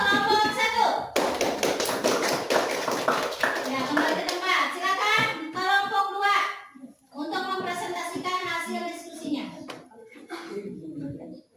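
An audience of children claps in a classroom session, with sharp taps and hand claps in bursts, mixed with children's voices chanting and talking over the top.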